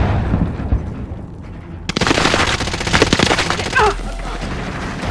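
Rapid automatic gunfire in Call of Duty: Modern Warfare, loud bursts crackling in after a quieter opening, with dense overlapping shots and a brief low rumble near the end.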